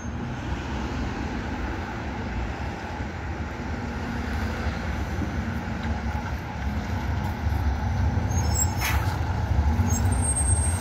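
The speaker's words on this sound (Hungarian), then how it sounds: "innen fog szépen most kiállni a kis busz" A small city bus pulls out of the new Rákospatak terminus in Budapest, its engine a steady drone that swells toward the end, with a brief air-brake hiss near the close.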